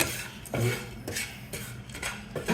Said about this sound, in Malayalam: എല്ലാം കൂടി ഒന്ന് നല്ലോണം അങ്ങോട്ടും ഇങ്ങോട്ടും മിക്സ് ചെയ്ത് കൊടുക്കുക